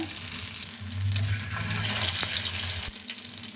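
Chicken shami kababs lowered into hot oil on a flat tawa, a steady close frying hiss that swells as they go in, with a brief clatter near the end.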